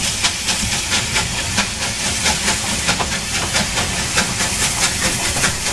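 A Southern Railway steam locomotive at Wadebridge pulls away with its train, loud steady hissing steam punctuated by rhythmic exhaust chuffs, close and continuous with no voices.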